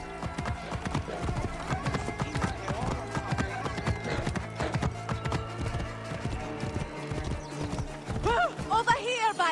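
Steady clip-clop of horse hooves trotting throughout, with music underneath and a horse whinnying near the end, in the video game Assassin's Creed Origins.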